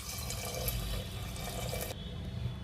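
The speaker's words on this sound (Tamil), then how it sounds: "2 கப் பால் சேர்த்துக்கிறேங்க." Milk poured into a pressure cooker holding drained, soaked rice, a steady close liquid splash and gurgle that thins toward the end.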